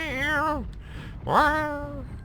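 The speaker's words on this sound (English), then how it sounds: "I just got like this really loud noise of Sooty meowing in the background" A house cat named Sooty meows loudly twice nearby, with two long, drawn-out calls separated by a short pause.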